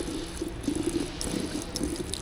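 Hot thermal water at 55 degrees Celsius runs steadily from a tap, a continuous close splashing stream with no voices.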